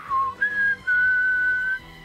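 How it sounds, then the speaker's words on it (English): A person whistles the Doctor Who theme tune alone with no talking, a clear, close melody of a short rising phrase followed by a long, steady held note. "You've caught yourself whistling the theme tune."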